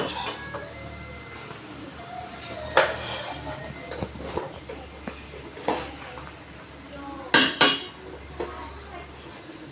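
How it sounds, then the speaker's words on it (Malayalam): A metal pan is set down on a gas stove, ready for roasting urad dal, giving a few sharp clanks and clinks over a quiet kitchen hum, with a pair of louder knocks near the end. "എനിക്ക് നമ്മൾ ഉഴുന്ന് വറുത്തിടും വേണ്ടി ഒരു പാത്രം ഗ്യാസിൽ വയ്ക്കാം"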